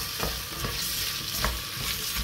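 Curry paste stirred in a hot pan, a dense steady sizzle with a few soft scraping strokes, close and without voices.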